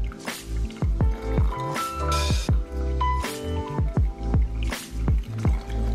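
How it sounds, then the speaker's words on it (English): Organic pour-over coffee brewing at close range, with a steady run of soft drips and wet squishing sounds as water filters through the grounds, occasional fuller splashes breaking the repeating rhythm. "I make myself an organic pour-over coffee every morning now"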